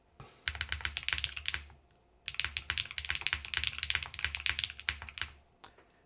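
Typing on an Athena 65 mechanical keyboard fitted with alternate gaskets, a dense run of crisp keystrokes in two bursts with a short pause between, close and clear with no talking.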